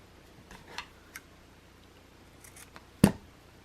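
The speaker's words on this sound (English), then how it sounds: "and then cut it, and it makes that little V" Scissors make a few soft snips followed by one sharp, close cut as folded ribbon is trimmed into a V for a punchneedle ornament bow.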